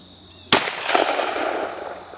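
A shotgun fires a single sharp, loud shot at a pink target about 5 yards away, and the blast rings and decays over the following second and a half.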